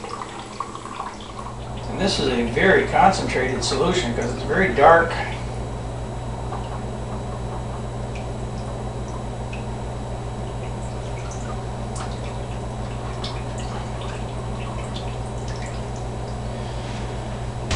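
Dark concentrated liquid drips steadily from a bowl being squeezed, a faint patter of fine drops continuing for over ten seconds after someone speaks briefly at the start.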